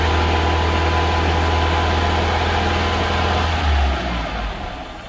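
A Universal Atomic 4 inboard boat engine drones steadily at close range, then revs briefly near the end before settling back down.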